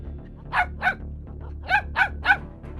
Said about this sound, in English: John uses a mix of dog breeds, including Catahoula leopard terriers for tracking and pit bulls for holding the boars.